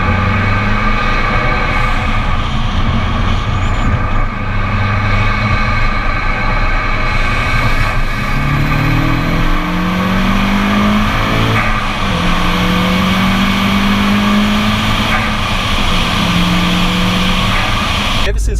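A modified Mitsubishi Evo 8 FQ300 rated at 380 bhp and 360 lb-ft drones loudly and steadily from close by. Its engine note climbs and falls through several rising pitch sweeps as it accelerates.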